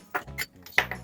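A 10mm Allen head bolt being worked loose on a Hotshot TFR mini bike, heard as a few close metallic clinks and taps of tool on metal spread across about a second.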